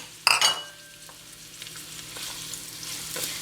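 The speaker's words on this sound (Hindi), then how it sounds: "अब इसमें प्याज डाल देंगे और इनको लाइट ब्राउन कर लेंगे।" Chopped onions hit hot oil in a karahi with a loud burst of sizzling, then settle into a steady, moderate frying hiss with occasional light stirring.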